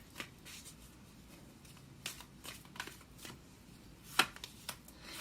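Tarot cards shuffled and drawn, a quiet sequence of soft, close riffles, flicks and slaps scattered unevenly, with one sharper snap near the end.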